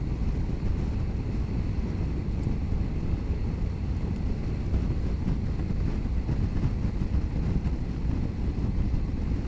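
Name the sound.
Honda NC750X motorcycle riding at 70 mph, wind noise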